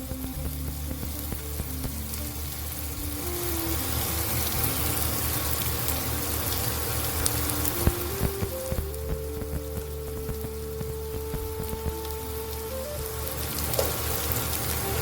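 Asafoetida sizzling in hot oil with onions for stuffed chillies, a continuous dense crackle and hiss close up, rain-like and even throughout, with a low tonal hum running underneath.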